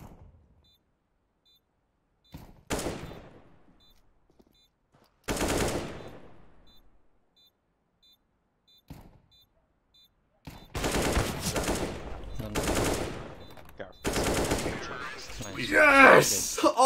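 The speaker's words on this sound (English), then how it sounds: "Why is teammate just going for wall bangs?" Counter-Strike: Global Offensive gunfire on the Mirage map, with sharp single shots and rapid bursts of wall-bang fire in bursts of varying length, loud and close, while players talk over it.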